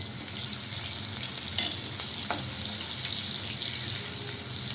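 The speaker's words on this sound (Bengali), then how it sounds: "একটু কড়াইতে একটু পেঁয়াজ ভেজে নেবো। পেঁয়াজটা দিয়ে দিলাম, জিরে তেজপাতা ফোড়নে দিয়ে দিলাম" Onion, cumin, bay leaf and green chilli frying in a wok, a steady close hiss of hot oil with two brief clinks of a utensil against the pan, no voices.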